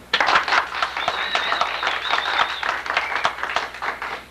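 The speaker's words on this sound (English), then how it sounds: "Let's have a stirring round of applause for the Bday Cam." A close, lively burst of clapping from a small group at the end of a birthday-themed show, loud and uneven with distinct individual claps for about four seconds.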